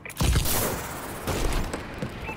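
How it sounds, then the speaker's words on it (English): Explosions from a bombing run in Call of Duty Advanced Warfare open with a heavy, close boom. A second rumbling blast follows, and further crackling impacts continue over loud battle noise. "Enemy bombing run incoming!"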